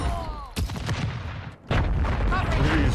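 Bursts of gunfire in Modern Warfare 2 online play, loud sharp shots with a brief pause near the middle, while a player talks over the action.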